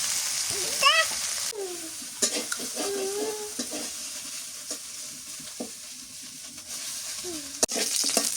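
Green chillies and garlic fry in hot oil with a steady, close sizzle, broken by stirring scrapes and clatters in the pan, while a voice speaks briefly over the cooking.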